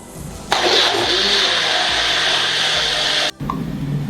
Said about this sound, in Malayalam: നമ്മൾ തേങ്ങ എന്ന് അരച്ചെടുക്കുകയാണ്.